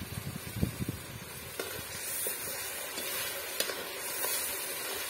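Rice mixed into sizzling tamarind paste in a pan, a steady frying hiss with soft scraping and stirring strokes, close and quiet.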